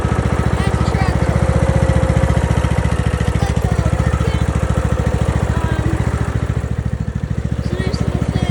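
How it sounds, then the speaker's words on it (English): Loud and close, a small tractor engine keeps running with a fast, regular chugging throb that holds steady from start to finish, and a voice briefly comes through over it. "That's the tractor."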